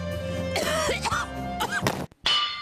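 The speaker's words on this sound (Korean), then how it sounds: "갑자기 기침이?" A person coughs in a short sequence of harsh, voiced bursts, close and clear, followed by a brief pause and one more sharp cough near the end.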